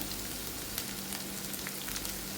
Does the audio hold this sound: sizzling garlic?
yes